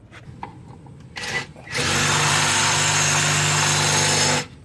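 A 6mm drill bit bores into a broken exhaust stud on a Nissan 300ZX, a loud, steady power-drill whine running for about three seconds after a few short starts.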